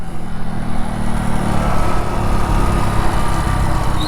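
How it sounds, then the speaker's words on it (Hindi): A motorcycle engine drones steadily up close, with small surges and jerky lurches in its rumble as the rider shifts down a gear; nobody speaks. "बाइक ने भाई आवाज़ तो की साथ में झटका भी मारा है।"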